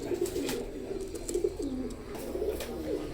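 Pigeons of a pure-bred fancy breed coo repeatedly in soft, throaty rolls from close by, several overlapping calls spread across the moment with faint background hiss and no talking.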